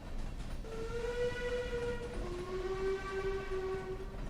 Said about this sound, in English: Oh, that sounds like a sad train.